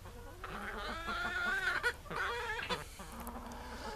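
Chickens cluck and squawk close by as they are fed bread scraps, a steady busy chatter of several birds with louder bursts near the middle.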